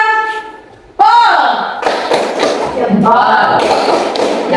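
A classroom group claps in unison for a tepuk jempol cheer, sharp loud slaps in a quick rhythmic burst with voices chanting along over it.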